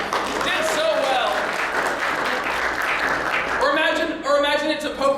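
A convention audience applauds a volunteer after a magic trick, a full burst of clapping that fades as a voice resumes talking near the end.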